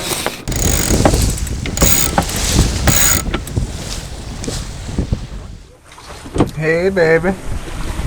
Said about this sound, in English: We are sailing to Camilla.